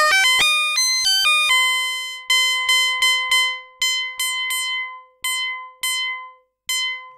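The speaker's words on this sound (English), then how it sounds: "And there you've got sort of a bit more bell-like sound." An ARP Odyssey synthesizer plays bright, bell-like tones: a few quick high notes, then a series of separate struck notes with ringing overtones, each decaying before the next, clear and alone.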